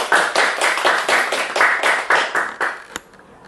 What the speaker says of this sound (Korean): 그럼 박수로 시작하도록 박수 한번,